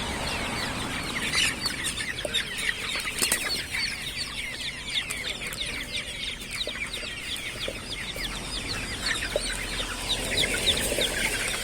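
Many chickens and roosters cluck and chatter continuously at close range at a poultry market in Akyazı, Sakarya, Turkey, a busy flock with occasional wing flutters and thumps.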